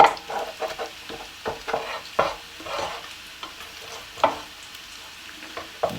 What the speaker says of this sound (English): I'm just going to use a flat sort of spatula just to clear any of the bacon where it's stuck